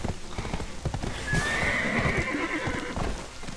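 In Black Desert Online, a horse's hooves clip-clop in a steady rhythm, then a loud, drawn-out whinny rises over them before the hoofbeats continue.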